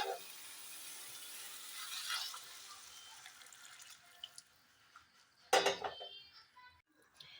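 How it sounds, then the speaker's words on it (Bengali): Hot water poured into a pan of browned keema cooked with banana flower, a steady hissing splash that runs for a few seconds, then a louder sizzling burst near the end; no voices. "এবার সামান্য পরিমাণে আমি এখানে গরম জল দেব"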